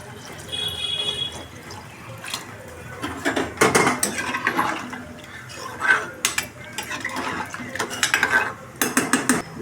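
Water poured into a cooking pot on a high flame while making tomato rice, with clattering pot and utensil knocks and splashing, fairly close, in bursts.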